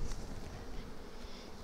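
Honey bees buzz around a hive box while being moved from a nuc into a 10-frame box during a weak nectar flow: a steady, close, dense drone that holds level throughout with no voices.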